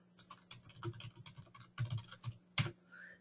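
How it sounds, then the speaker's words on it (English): Rapid typing on a computer keyboard while entering an email address and subject, a close, quick patter of key clicks ending in one louder keystroke, with no talking. "what you can do is type an email address, type a subject"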